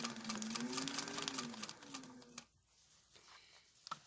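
A sewing machine stitches fabric with a steady, close mechanical whir for about two and a half seconds, then stops, leaving a quiet room with a few faint clicks and a short tap at the end.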